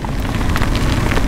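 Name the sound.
heavy rain pouring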